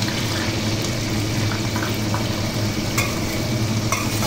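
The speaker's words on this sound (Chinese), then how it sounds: "锅内的猪油放入切好的红葱头末炸香，这时可能出现喷溅或较大的油炸声" Chopped shallots deep-fry in homemade lard, a dense, continuous bubbling sizzle with occasional louder crackles and stirring scrapes, close and steady throughout.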